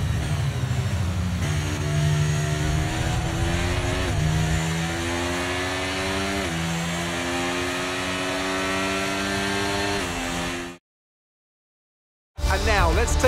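An F1 car in the racing game F1 23 drives back after the Austrian Grand Prix, its engine droning steadily with rising pitch through the gear changes before the sound cuts off abruptly.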